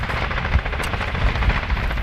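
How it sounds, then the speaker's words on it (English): Gunfire as police in Afghanistan return fire toward a Taliban-controlled village, a dense rattle of distant shots under a steady noisy background, with a few heavier low thumps standing out. "straight away start shooting back despite not having any idea where the Taliban are"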